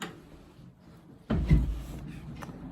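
A door with no handle is pried open by hand, a dull thump and rattle partway through followed by a faint creak and click, quiet and close.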